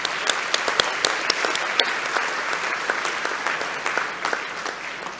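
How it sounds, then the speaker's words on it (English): Audience applause at a university graduation ceremony in Singapore, many hands clapping in a steady wash with a few sharp, close individual claps standing out, gradually tapering off. "Come on, where's your applause, ladies and gentlemen?"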